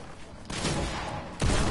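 Gunfire in a 1v1 video game match: two loud bursts of shots, one near the start and a heavier one near the end, over a steady noisy game background with some talk mixed in.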